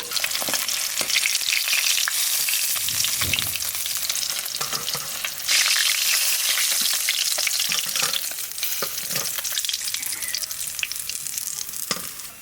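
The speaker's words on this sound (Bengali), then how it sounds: "মাছটা একটু বড় বড় পিস তো, ওই জন্য কড়া ভাজা দিলাম।" Large pieces of catla fish deep frying hard in hot oil, a steady loud sizzle and crackle running throughout with occasional stirring scrapes, no voices.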